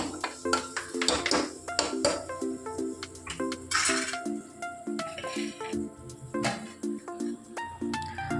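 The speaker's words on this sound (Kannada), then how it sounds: "ಇವಾಗ ಇದೆಲ್ಲ ಚೆನ್ನಾಗಿ ಫ್ರೈ ಆಗಬೇಕು." Chilli powder masala for egg sambar frying in a pan at home, heard as busy clattering of a spoon scraping and knocking against the metal pan in quick irregular strokes, fairly close, with no voices.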